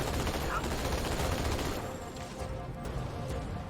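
Gunfire rattles in the Halo 2 video game, a steady stream of rapid shots that thins out partway through, moderately loud, with a voice underneath.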